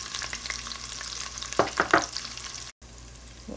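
Onion paste going into hot oil with ginger, garlic and spices for kadhi sizzles steadily and close up. A few louder stirring scrapes and crackles come midway, then a brief gap before the sizzle resumes.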